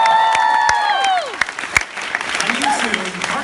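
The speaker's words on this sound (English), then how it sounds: "everybody cheer for Benny." A convention panel audience cheers and applauds for a softball teammate, with sustained whoops and high held shouts over steady clapping that thins out into scattered claps and voices.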